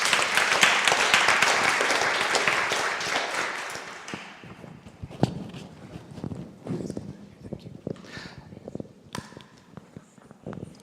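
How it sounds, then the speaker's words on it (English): A panel-discussion audience applauds loudly for about four seconds, then the clapping thins to scattered claps and fades out amid room noise and faint murmurs. "if we can give our panel a round of applause"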